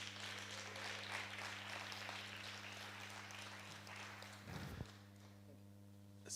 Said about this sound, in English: So can you please give yourself a round of applause?